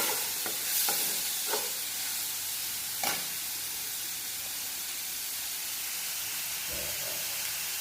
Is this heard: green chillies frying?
yes